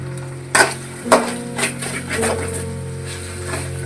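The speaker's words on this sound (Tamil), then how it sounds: "சிம்மில் வச்சுட்டே தான் கலரணும்" A spoon stirs biryani masala with ginger in a pan over a low flame, giving a few distinct scrapes and knocks followed by a soft, steady sizzle in the background.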